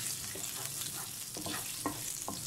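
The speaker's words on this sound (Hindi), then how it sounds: "सौंफ ऐड करने के बाद हमने 1 से 2 मिनट तक सौंफ को अच्छी तरह भूनना है" Fennel seeds fry in hot oil in a pan while making Banarsi aloo, giving a steady close sizzle with a few soft stirring scrapes and no talking.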